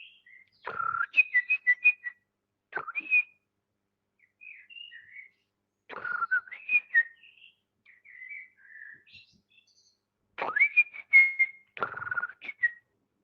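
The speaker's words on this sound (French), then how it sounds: "Naninouche, ah c'est mon oiseau" A pet bird whistles and chirps indoors in short bright bursts separated by pauses, phrases repeating several times, fairly close and alone without talk.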